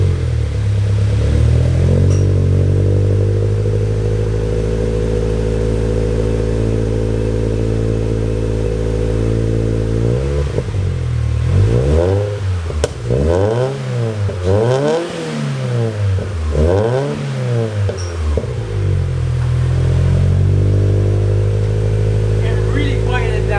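A Toyota GT86 engine idles nearby, then revs repeatedly in rising and falling sweeps through a loud HKS titanium exhaust before settling back to idle.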